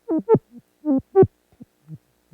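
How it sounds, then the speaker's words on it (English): A Korg Volca Modular synthesizer patch plays by itself: sparse, bubbly pitched blips in pairs, the later ones quieter and fading like echoes. "Now we have a little self-generating patch here."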